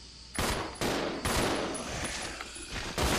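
Rapid gunfire in the Resident Evil 0 HD Remaster video game, several loud close bursts of shots with brief gaps between them, echoing sharply.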